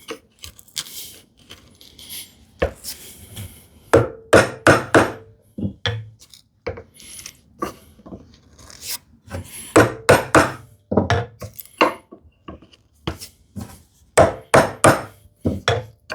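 Hand chisel paring cuts in a wooden tenon haunch for a shoe tidy project, a series of sharp close taps and scraping bursts in irregular clusters with short pauses between, no talking.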